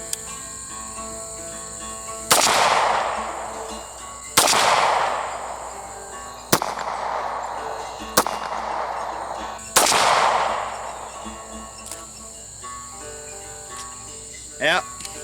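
Five sharp pistol shots from a Stoeger Cougar 8040F at an outdoor range, spaced about two seconds apart, each loud crack trailing off in a decaying echo over steady insect chirping.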